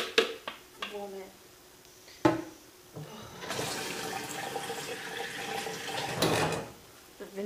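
A vinegar drink is poured into a glass, a splashing, gurgling stream of liquid lasting a few seconds, preceded by clinks and handling noises, with people talking faintly nearby.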